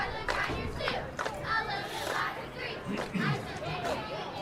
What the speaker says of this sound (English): Yeah, decent crowd.